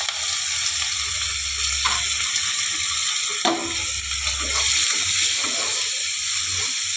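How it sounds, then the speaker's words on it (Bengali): Chopped onions hitting hot oil already seasoned with black cumin and green chillies, giving a steady, close sizzle and crackle with occasional stirring scrapes, no voices over it. "এবারে পেঁয়াজ কুচিগুলো দিয়ে দিলাম"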